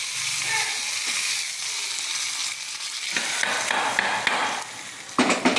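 Mustard seeds and curry leaves sizzle and crackle steadily in hot oil, a close, continuous fry with scattered sharper pops and a burst of stronger spitting near the end.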